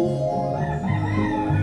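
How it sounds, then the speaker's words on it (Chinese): A rooster in the Surprise Eggs phone game crows once, a loud, sustained and tonal cock-a-doodle-doo heard close and alone, filling the whole short moment. "一只公鸡。"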